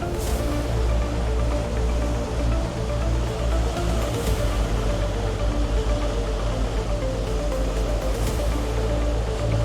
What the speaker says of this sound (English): Some sizable swell coming from behind, and that same swell I can see is breaking waves